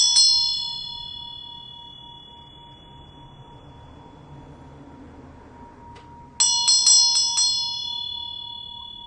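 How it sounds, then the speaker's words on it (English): A Buddhist ritual bell rings with a bright metallic strike that hums and slowly fades, then after a quiet tap it is struck again several times in quick succession, each tone ringing on clearly. "you choose it by the tone of the bell"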